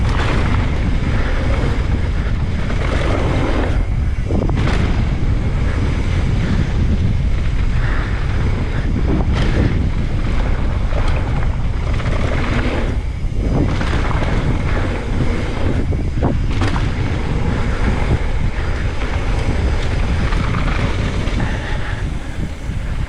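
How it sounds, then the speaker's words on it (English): Steady, loud wind roars and buffets the microphone on a mountain bike park trail, with constant rumbling gusts throughout and no clear voices. "It's a little windy today too."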